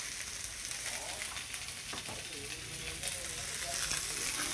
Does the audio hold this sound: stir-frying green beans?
yes